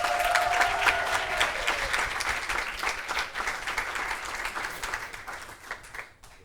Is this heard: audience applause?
yes